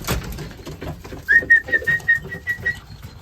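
Young racing pigeons coo and whistle in a loft, a clear run of six or seven evenly spaced, rising tonal calls, close and fairly loud over quiet rustling, after a faint opening murmur.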